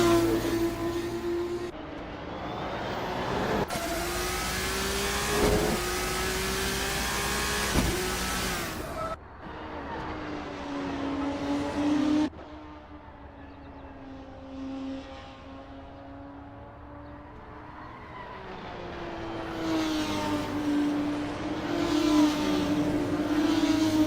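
Race cars at Mugello in a racing video game, with engines whining and revving as they pass, cutting between loud close cars and quieter distant stretches, shifting pitch through gear changes.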